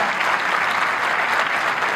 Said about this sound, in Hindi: एक बार जोरदार तालियां बजनी चाहिए आपकी भी